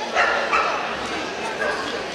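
A Dogue de Bordeaux mastiff at the Sydney Royal Dog Show gives a few short yips and whimpering barks close by, mixed with someone talking and general hall noise.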